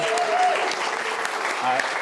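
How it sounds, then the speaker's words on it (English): Applause from an audience at a leadership breakfast, a steady, dense wash of clapping that stays loud through the whole stretch, with faint voices mixed in. "if you could give them a huge round of applause for the CCI team"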